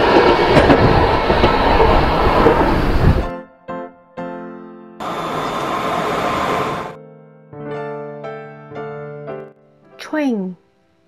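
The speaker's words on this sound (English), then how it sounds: "Train." Toy train from an Anpanman educational toy: a loud rumbling clatter of wheels, then electronic chiming tones and short beeps with a rising whistle-like sweep at the end, alone without talk.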